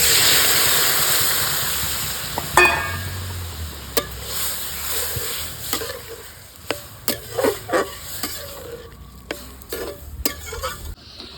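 Tarka sizzles and fries in a hot pan with ginger paste and spices, a steady hiss broken by repeated sharp scrapes and clinks of a spoon stirring.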